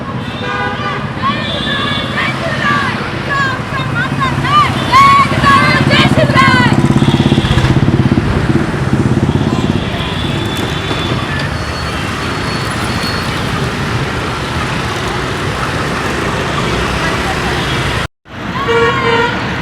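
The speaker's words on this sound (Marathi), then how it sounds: "शहरात बाईक रॅलीचे आयोजन करत असतात" Motorcycles in a large women's bike rally through Nashik city for Shiv Jayanti roar past in a loud, continuous engine and traffic rumble, with voices mixed in.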